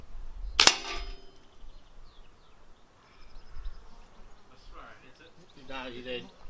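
One sharp crack of a small gun fired at a duck target outdoors, close and brief near the start, followed by quiet background with faint buzzing and later some talking.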